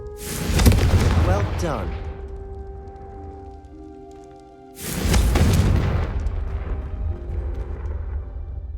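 Two heavy booming blasts from the Confringo blasting curse in Hogwarts Legacy each erupt loudly and decay over a couple of seconds, with a brief spoken voice between them.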